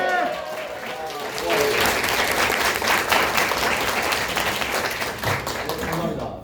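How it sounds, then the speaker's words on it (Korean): Audience at a magic show bursts into applause, a dense wash of clapping that swells after a moment and carries on steadily, with some voices mixed in. "마술을 봤을 때 일단은 박수 치고 그 다음에 집에 가서 생각하세요"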